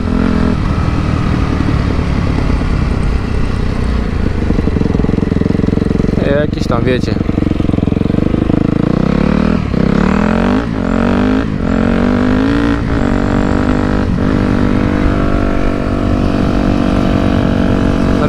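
A Yamaha YZF 250 motorcycle idles and revs nearby, with several sharp throttle blips cutting through a steady engine drone while someone talks over it.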